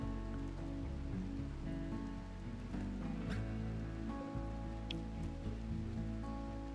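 Steady rain falls as a soft, even patter across the RimWorld colony, with game music underneath and no talking.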